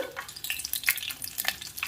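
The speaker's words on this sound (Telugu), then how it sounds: "ఆయిల్ వేడెక్కిందండి కొద్దిగా పోపు గింజలు వెల్లుల్లి" Seasoning seeds, fenugreek and garlic crackle and sizzle in hot oil in a pan, with quick popping bursts over a soft steady hiss.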